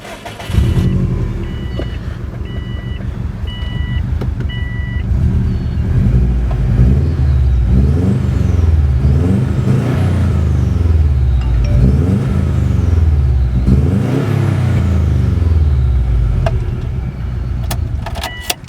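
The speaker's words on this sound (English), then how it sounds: "So it sounds like a WRX." A 2002 Subaru WRX wagon with an aftermarket exhaust cranks and fires, settles into a rumbling idle, then is blipped through repeated throttle revs that rise and fall close by, with a few clicks and a faint chime early on.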